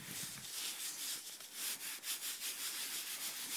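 Quiet, steady rubbing and scraping on an old coin dug up during metal detecting, the soft strokes repeated continuously and close up.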